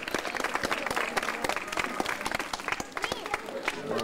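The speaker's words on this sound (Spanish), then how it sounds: "un fuerte aplauso para la profesora Silvia Sánchez." Audience at a school event applauds a teacher with steady, dense clapping throughout, with a few voices mixed into the applause.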